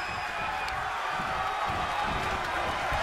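Steady, dense roar from the virtual arena crowd in the WWE 2K24 wrestling video game, holding at a constant loud level throughout with no distinct claps or individual shouts standing out.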